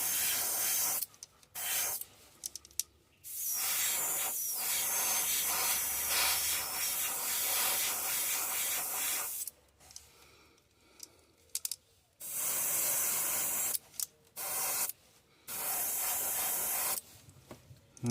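An airbrush sprays black paint onto a bluegill-pattern fishing lure, giving a steady close hiss in long bursts broken by short pauses, with no talking.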